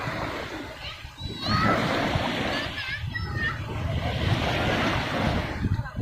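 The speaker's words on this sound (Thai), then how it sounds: "เล่นน้ำทะเลกันสนุกสนานกันเลยนะครับ" People splashing and playing in sea water on a Thai beach in the afternoon, a steady wash of splashes and surf with children's shouts and squeals rising over it, loud and close.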